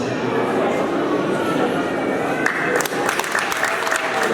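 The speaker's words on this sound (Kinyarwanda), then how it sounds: "tumuhereze amashyi" Audience applause at a wedding celebration, a steady wash of clapping from a crowd that continues throughout, with louder, sharper claps toward the end and voices mixed in.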